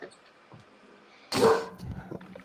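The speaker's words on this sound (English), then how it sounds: "My dogs are barking at some dog walking down the block" Several dogs at home bark at another dog passing down the block, a loud burst of barking partway through, with quieter yips trailing after over a low room background.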